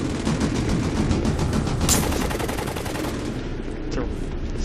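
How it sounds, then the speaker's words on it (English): Gunfire in the Dust 514 shooter, with a sniper rifle shot standing out amid a dense, continuous wash of battle noise and rapid shots, loud throughout. "It's a sniper rifle that just tagged me."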